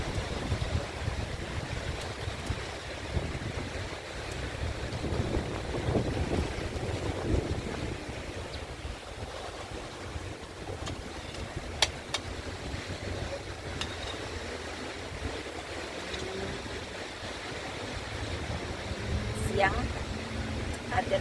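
Seaside waves wash onto the shore under strong gusting wind that buffets the microphone, a steady surging roar with occasional sharper splashes, and voices talking faintly at times.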